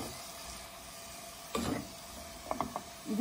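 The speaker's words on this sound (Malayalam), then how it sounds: "ഈ മാമ്പഴവും ഈ ശർക്കരപ്പാനിയും ഈ നെയ്യും കൂടി ഒന്ന് വരട്ടിയെടുക്കുക." Mango is stirred with jaggery syrup and ghee in a pan over a low flame: faint, soft scraping and stirring strokes with a low sizzle, coming in a few short bursts.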